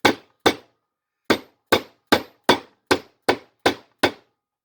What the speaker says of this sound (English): That's where I start hammering